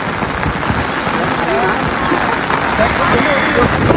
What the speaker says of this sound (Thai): ฝนตกหนักมากเลยนะคะ